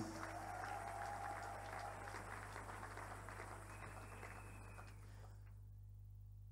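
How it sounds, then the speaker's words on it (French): A church congregation applauds and cheers for the Lord in a sustained, fairly distant wash of clapping that fades out toward silence at the end. "Quelqu'un peut acclamer très fort pour le Seigneur,"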